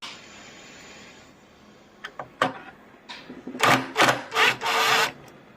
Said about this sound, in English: I'm just using a hacksaw to hacksaw these through